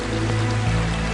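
Steady rain falling in the Siberian mountains, a dense continuous patter and wash of water close by, loud and unbroken with no voices.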